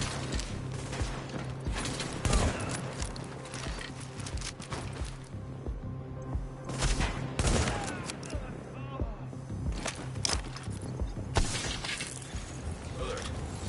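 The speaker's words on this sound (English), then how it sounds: "He's shooting at my turret." Bursts of gunfire hitting a deployed turret during a PS5 session of The Division survival mode, dense and continuous with mechanical clatter and impacts, mixed with game effects and alert sounds throughout.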